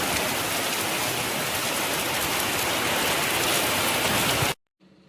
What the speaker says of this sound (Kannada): ಫುಲ್ ಮಳೆ ಮಳೆ ಮಳೆ